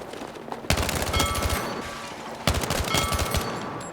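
Two bursts of rapid automatic gunfire with a suppressor in the Battlefield 6 video game, each a quick run of sharp shots over a dense background of battle noise.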